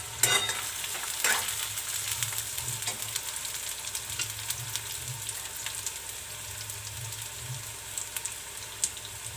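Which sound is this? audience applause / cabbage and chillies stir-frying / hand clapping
cabbage and chillies stir-frying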